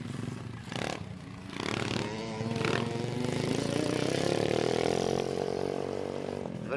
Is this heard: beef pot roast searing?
no